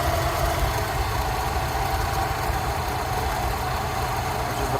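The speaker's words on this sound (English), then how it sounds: "The proper idle speed for a warm engine." A warm Rolls-Royce Silver Shadow V8 idling at around 600 RPM after carburettor tuning, a steady low rumble with an even mechanical hum, continuous and close with no talking.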